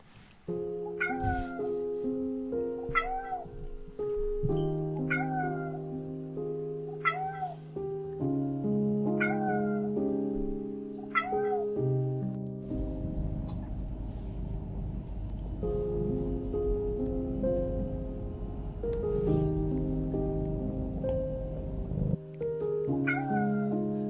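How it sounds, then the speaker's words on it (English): A cat meows repeatedly in a series of drawn-out, tonal cries, some rising into caterwaul-like wails, close and clear over a low rumbling background. "this poor cat"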